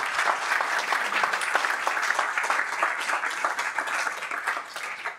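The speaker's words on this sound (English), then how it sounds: "Round of applause for our speakers, please." Audience at a tech talk on DAOs in the Cayman Islands applauding its speakers, a steady, dense round of clapping from a roomful of people that holds evenly throughout.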